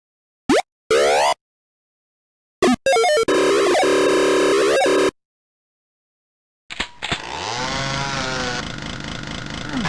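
A voice imitates the mechanical chainsaw from an Amiga 3D shooter game, with short sputtering bursts and then long buzzing revving passes separated by pauses, loud and close.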